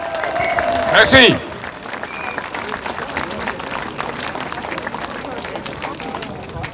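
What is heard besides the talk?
audience applause for speaker Jacques Chaminade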